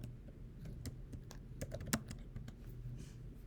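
Rapid, uneven clicking of keys on a computer keyboard as someone types, with sharp individual keystrokes and a few louder taps, close and clear over a low background hum, no talking.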